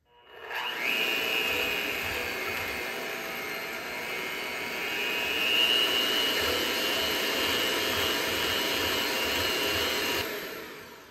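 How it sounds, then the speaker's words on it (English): Electric hand mixer whipping cream for a classic chocolate mousse, a steady loud motorized whir running continuously for about ten seconds with a slight rise in pitch midway, no talking over it. "I'm gonna start whipping up my whipped cream and then I'll do my egg whites."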